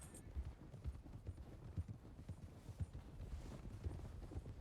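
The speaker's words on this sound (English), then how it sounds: "Why does it sound like a horse in front of me?" Horse hooves clip-clop steadily in Red Dead Redemption 2, a continuous rhythmic trot of soft, muffled hoofbeats heard fairly close under low background noise with no talk.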